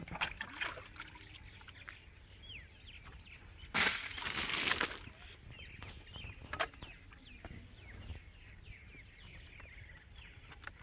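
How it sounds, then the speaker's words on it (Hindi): One brief splash of water thrown from a bucket against a mud wall, lasting about a second, with birds chirping softly in the background. "इस तरह ज़्यादा पानी दीवार पे लग रहा है।"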